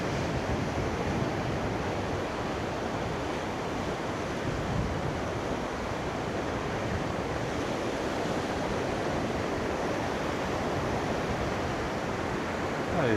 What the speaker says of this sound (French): Ah, il y a des bonnes petites vagues quand même.